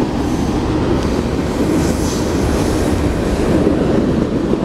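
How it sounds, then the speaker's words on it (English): Sand train hauled by three locomotives rolls steadily past, a continuous loud rumble of wheels and railcars close by, with no voices. "Okay, that's a sand train."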